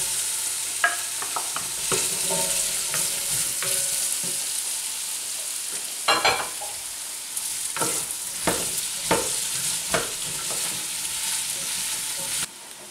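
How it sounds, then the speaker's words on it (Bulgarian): Potatoes and vegetables sizzle in a frying pan for a meatless moussaka, with a steady hiss broken by several sharp scraping stirs of a utensil against the pan. "И разбъркваме. Добавяме и картофите."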